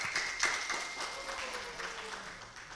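Applause from an audience at a Tasikmalaya mayoral candidates' debate, a brief burst of clapping that fades out over a few seconds, moderately loud with voices mixed in.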